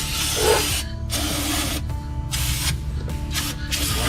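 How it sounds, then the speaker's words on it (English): Bursts of aerosol spray hiss in several separate blasts with short gaps inside a Dana 44 differential, close and steady, over a constant low mechanical hum. "We're going to spray the inside, the differential here."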